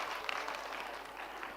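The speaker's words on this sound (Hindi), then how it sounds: "रेणु जी के लिए पुरस्कार, तालियां बजाइए।" An audience at a Dev Anand film quiz claps for a prize winner in a short, faint, steady patter of many hands, heard from a distance in a hall.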